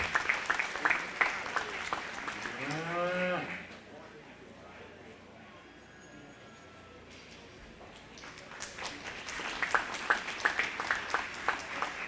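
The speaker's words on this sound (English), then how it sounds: "let's give this group of those three young ladies a nice round of applause" Applause from the audience at a 4-H/FFA cattle show ring for three young ladies, with a clear stretch of crowd clapping in the middle; a voice talks before and after it over the arena murmur.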